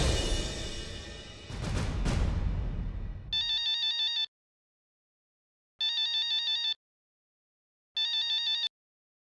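A phone ringtone sounds in a Hindi TV drama scene, following a short burst of noise. It plays as three loud, repeated electronic bursts with silent gaps between them.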